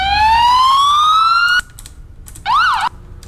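A modded police car siren in a video game rises in a long loud wail, cuts off, then returns briefly as a fast rising-and-falling yelp.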